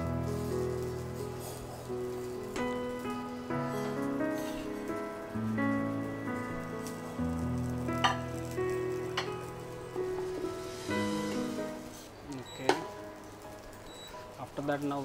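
Mashed potato fries in a pan with a steady, rain-like sizzle and crackle, joined by a few sharp clinks and scrapes, while a voice talks over it.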